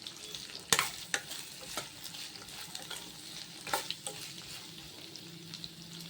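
Chopped onions with salt sizzle softly in a pan, punctuated by irregular spatula scrapes and clanks against the metal, close up and without talk.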